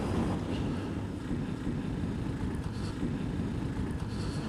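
KTM 390 Adventure motorcycle engine holding steady just over 4,000 RPM in 4th gear, a continuous low drone mixed with wind rush, with no talk.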